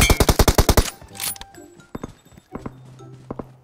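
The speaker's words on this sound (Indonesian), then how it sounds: "Nembak lagi." Rapid automatic gunfire in the mobile battle royale game PUBG Mobile, a fast loud burst of about nine shots, then scattered single shots, thuds and footsteps.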